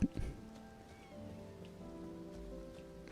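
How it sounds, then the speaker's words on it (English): Steady rain patters on a surface nearby, a soft even hiss with a few louder drops at the start, no voices. "It started to rain and my computer went poof."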